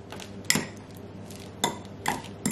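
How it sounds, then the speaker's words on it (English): A fork scrapes and taps against a bowl while shredded cheese is mixed, giving a few faint, scattered metallic clinks with quiet pauses between. "I'm going to go ahead and just mix all that up with a fork."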